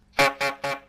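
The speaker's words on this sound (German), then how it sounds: "kannst du einmal für mich tröten?" Three short, evenly spaced toots of a horn come through a Discord voice chat connection, each one loud and clear against near silence.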